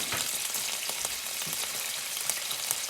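Sliced onion fries in pan drippings with no added oil, a close, steady, bright sizzle with small popping crackles throughout and no talking.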